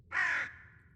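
A raven croaks once, a single loud harsh caw lasting about half a second with a short fading tail, set against quiet low background hum in a binaural reading of Poe's poem.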